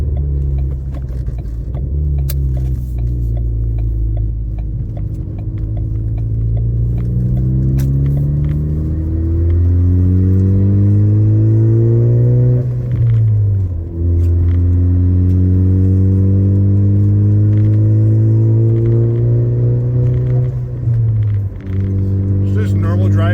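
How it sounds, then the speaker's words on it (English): Ford Focus ST fitted with a Roush catback exhaust and catless downpipe, a loud deep exhaust drone rising in pitch through the gears, with shifts and relaxing between pulls during normal driving, heard from inside the car. "Hear that exhaust. Oh, it sounds so good."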